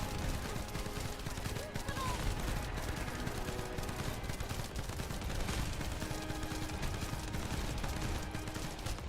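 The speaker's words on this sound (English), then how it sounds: "Spamming bullets!" Rapid gunfire fills a hard-mode boss fight in the shooter game The First Descendant, a dense, continuous barrage of shots at steady loudness with game effects mixed in.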